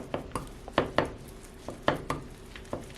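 Egg and about a cup of stovetop stuffing stirred together in a bowl, with a series of sharp, evenly spaced clinks and scrapes of a utensil against the bowl, close and clear with no talking.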